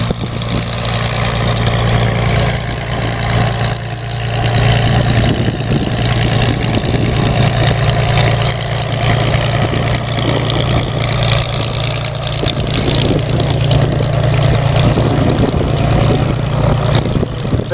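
A Supermarine Spitfire's engine runs steadily with its large propeller turning, a loud continuous low drone with a throbbing hum that holds for the whole stretch, close by at an outdoor festival, with no talking.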